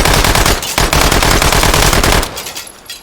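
An Uzi fitted with a 72-round drum magazine fires in the virtual-reality shooter H3VR, a loud, rapid full-auto burst lasting about two seconds, then a brief gap and a few trailing clatters.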